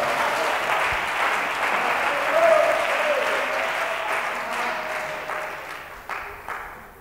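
A church congregation breaks into sustained applause that fills the room, holding steady and then slowly thinning out toward the end, with no voice heard over it.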